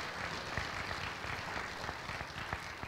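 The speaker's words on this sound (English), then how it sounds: "give him a round of applause anyway" An audience at a university robing ceremony applauds with steady, fairly faint clapping that continues evenly throughout.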